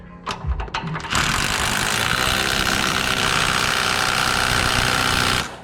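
Impact wrench runs on an idler arm nut of a 1999–2007 Chevrolet Silverado or GMC Sierra, opening with a few short bursts, then a loud, steady hammering rattle lasting several seconds before stopping.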